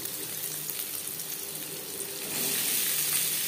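Chopped onion dropped into hot refined oil in a pan, a soft hiss that swells suddenly into a louder, steady sizzle partway through.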